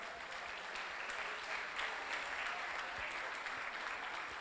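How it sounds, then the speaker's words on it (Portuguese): A steady round of applause from an audience at a constitutional law panel, heard alone as a continuous, faint, even patter of many clapping hands without talk. "Uma salva de palmas, por favor."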